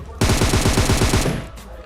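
Rapid automatic gunfire from a mobile battle royale video game, a loud sustained burst of quick repeated shots lasting about a second before cutting off.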